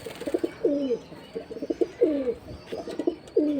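Kasuri Pakistani pigeons coo nearby in soft, repeated rolling phrases with short pauses between them. Faint background noise runs underneath.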